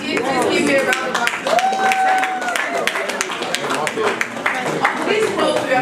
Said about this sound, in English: If I did, please give me a round of applause.